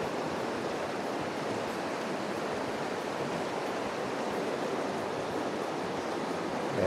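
A river flows steadily beneath a partly broken bridge on a backcountry trail, a constant broadband rush of water heard close and unbroken throughout, with no voices.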